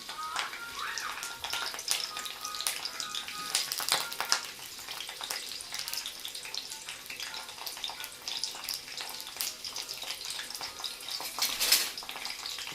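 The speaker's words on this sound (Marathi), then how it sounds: "कांदा आपण याच्यामध्ये परतून घेऊया" Chopped onion hitting hot oil seasoned with curry leaves, a bright continuous sizzle and crackle with stirring scrapes, loud and close throughout.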